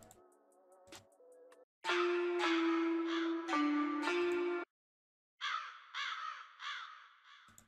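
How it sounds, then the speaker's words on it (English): Crow caws repeat in short loud bursts layered over a dark hip hop beat, with a ticking rhythm underneath and brief gaps between the cawing phrases. "I just added this crow sound on every fifth bar"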